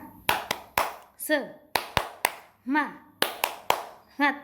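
A group claps in a quick rhythmic pattern of sharp hand claps, bursts of several claps separated by short chanted voices, fairly close in an indoor gathering such as a church service.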